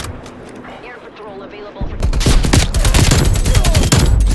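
Rapid video game gunfire: a quieter stretch opens into loud, dense bursts of shots that keep going without a break, with a player talking over the action.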